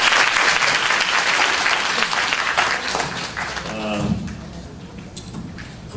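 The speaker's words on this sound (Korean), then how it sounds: "와, 박수 한번 쳐주세요." A crowd at a church youth retreat claps in a dense burst of applause that gradually thins and fades, with voices coming through as it dies down.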